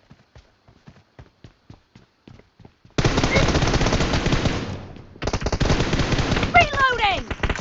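Bursts of automatic gunfire in the BGMI (PUBG) battle royale game, starting after a run of sparse rhythmic taps and then continuing loud and dense for several seconds, briefly pausing and resuming.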